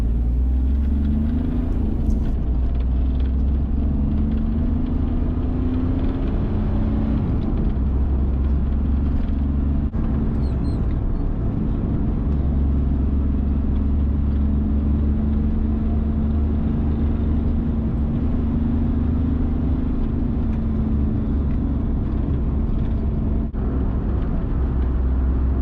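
A 1992 Daihatsu Charade with a 1 litre turbo diesel engine drives along, its steady low engine drone and road rumble filling the cabin continuously and loudly, with no talk.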